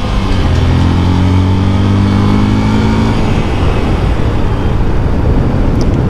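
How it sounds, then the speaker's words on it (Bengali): A vehicle engine revs up loudly and close, holding a rising, sustained roar for about three seconds before settling into a rough, steady rumble with no voices. "ওফ, একটু রেভ করতে মজাই লাগে।"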